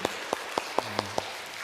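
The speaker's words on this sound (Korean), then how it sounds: "격려 박수 한번 해주시죠" About six sharp hand claps at an even pace, faint and distant, in a church during an Anglican Sunday Eucharist service, with a low hum in the background.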